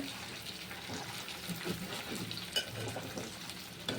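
Chicken pieces fry in a pan for Bhimavaram-style chicken pickle, giving off a faint, steady, crackling sizzle with soft scattered pops throughout.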